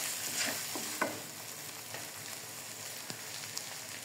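Chicken sizzles softly in a pan while spices are stirred in, a steady hiss broken by a few light scrapes and taps of the spoon, with no talking.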